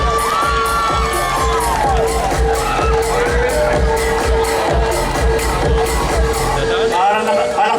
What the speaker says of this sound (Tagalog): palakpakan natin ang ating Municipal Health Officer, Dr. Angelito de la Cuesta.